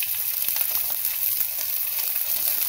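Two medium onions, chopped into large pieces, frying in a spoonful of hot oil in a pan, giving a steady, bright crackling sizzle that stays fairly loud and even throughout, with faint scattered pops.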